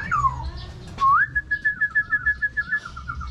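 A bird whistles clearly up close: a falling slide, then a rising note that becomes a quick series of repeated pulsed whistles before fading.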